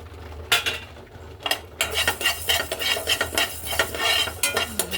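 Coriander seeds are stirred in a pan with rice for a vegetable curry, producing repeated metallic scrapes and clinks of a spoon against the pan over a faint low sizzle, close and fairly steady.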